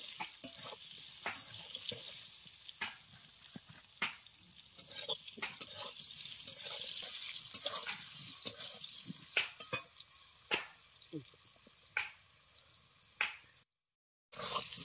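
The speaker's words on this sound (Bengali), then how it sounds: "আলুগুলো লাল লাল করে ভেজে নেব" Potatoes fry in oil in a pan with a soft, continuous sizzle and scattered light crackles and taps, then a brief silence near the end before the frying resumes.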